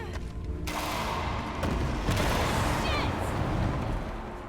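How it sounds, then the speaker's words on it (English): A structure breaking and collapsing in Shadow of the Tomb Raider, a dense rumbling crash of debris that swells and sustains for several seconds with scattered cracks. "Stuff really needs to stop breaking around her. Needlessly just collapsing because she's around."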